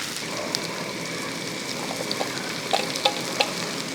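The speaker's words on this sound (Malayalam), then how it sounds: "കൂട്ടത്തിൽ കുറച്ച് സവോള അങ്ങോട്ട് ഇട്ട് കൊടുക്കാം." Onions cook in hot oil with crushed garlic and ginger for chicken biriyani, giving a close, steady crackling sizzle with a few small pops and light utensil clicks near the end.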